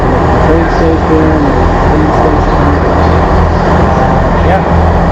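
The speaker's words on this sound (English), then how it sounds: "So I'm here in Portsmouth train station, and let's have a look at the train station" Portsmouth train station ambience: a steady, loud wash of rumbling trains and hall noise, with voices talking through it and faint squeals near the end.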